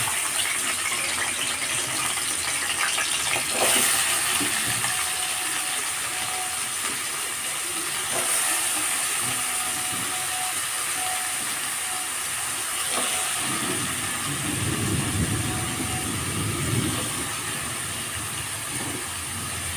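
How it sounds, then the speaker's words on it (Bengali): Potato and prawns with salt and turmeric fry in mustard oil in a kadai, giving a loud, continuous broadband hiss with a few soft knocks and stirring clatters under it. "এবার আমি এই আলু আর চিংড়ি মাছটা একসাথে নুন হলুদ দিয়ে লাল লাল করে ভেজে নেব।"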